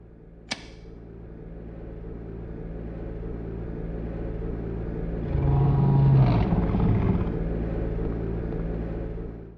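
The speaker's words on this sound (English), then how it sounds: "when Harry turns on the boiler at the school," A school boiler switching on in the Silent Hill video game: a sharp click, then a low steady mechanical rumble that swells into a louder grinding, whirring surge before settling back to a droning hum.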